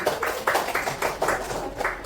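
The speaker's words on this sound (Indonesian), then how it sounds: "Benar, tepuk tangan." A classroom of students claps in unison, a patterned series of distinct group claps in a steady rhythm, moderately loud and close, with no talking over it.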